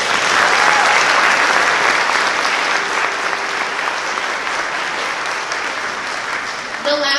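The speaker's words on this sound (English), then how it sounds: "So let's give all those people a big round of applause." Audience applause at a middle school spring band concert, a steady, full wash of clapping from a large crowd that holds for about seven seconds before thinning out at the end, with some voices mixed in.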